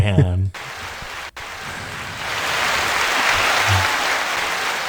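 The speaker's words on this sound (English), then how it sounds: "The canned applause, ladies and gentlemen. The canned applause." Canned applause plays as a dense, steady wash of clapping that runs for several seconds after a brief spoken voice at the start, holding loud and even with no break.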